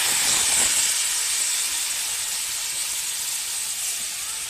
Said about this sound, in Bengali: এইবার মাখিয়ে রাখা মাছটা দিয়ে দেব কড়াইতে।